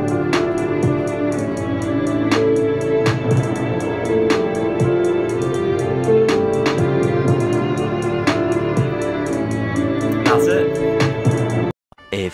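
Drums join orchestra and a cinematic piano line, with sharp hits landing at a steady, regular beat over dense sustained strings and chords. The full mix plays loud and close, then drops out abruptly near the end.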